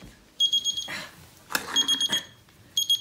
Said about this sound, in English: I'm going to set this timer for 5 minutes.